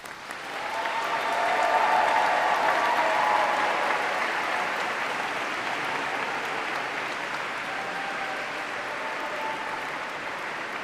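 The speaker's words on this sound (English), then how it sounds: "now it's your turn to reciprocate and clap to all of the friends and family, teachers and supporters that have helped you along the way" Graduates clap for their friends and family inside Canterbury Cathedral at a University of Kent graduation ceremony, a large, reverberant wave of applause that swells over the first seconds and then stays steady and full, with no voices over it.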